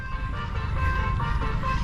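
Melodic bus telolet horn sounding steadily at a scenic hilltop hangout spot near a dam, a bright tonal horn pattern over low rumbling traffic noise, continuous and fairly loud throughout.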